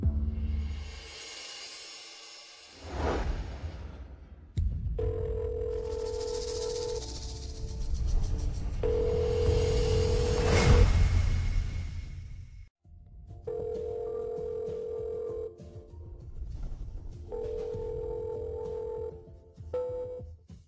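A phone rings repeatedly in a steady pattern of electronic tones, going unanswered, with background music and ambient noise around it.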